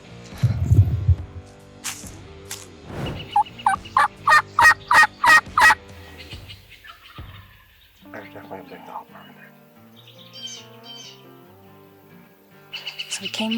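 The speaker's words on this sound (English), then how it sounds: "we heard a couple gobbles" Wild turkeys gobble on a farm during a turkey hunt, a rapid burst of loud gobbles in the middle with quieter calls around it, while people talk quietly.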